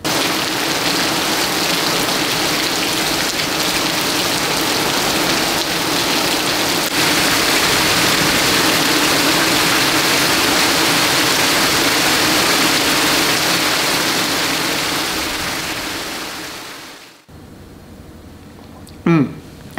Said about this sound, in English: we got some really nice and heavy rain